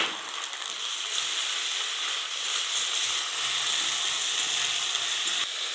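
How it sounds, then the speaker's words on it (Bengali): Onion and ginger-garlic paste frying in a pan for methi chicken, a loud, continuous hissing sizzle that holds steady throughout and cuts off abruptly near the end. "দিয়ে দিচ্ছি পেঁয়াজ, দিয়ে দিচ্ছি আদা রসুন বাটা"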